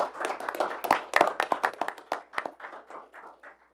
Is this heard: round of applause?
yes